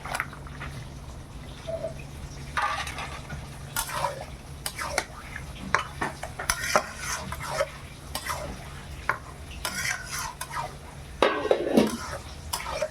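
Mutton tipped into fried spices in a pot, with irregular stirring clatter, spoon knocks against the metal and a low sizzle running underneath, close by and without speech.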